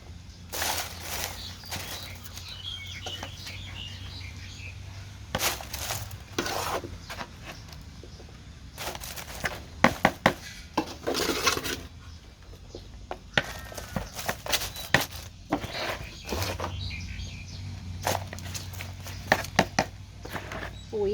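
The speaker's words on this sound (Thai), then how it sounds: "แล้วก็ตักดินลงไปค่ะ" Garden soil is scooped by hand into an empty pot lined with bamboo leaves while repotting a young eggplant seedling, giving repeated close scraping, rustling and pattering scoops with short pauses between them.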